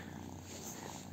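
A pet cat purrs close by in a low, steady rumble, soft and continuous, with no other sounds around it.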